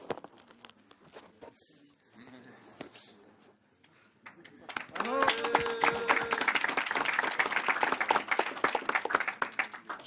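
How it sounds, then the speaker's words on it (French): An audience at a developer conference applauds a speaker, the clapping swelling from about five seconds into steady, dense applause after quieter talk and scattered sounds at the start. "Alors, vous pouvez l'applaudir, je pense."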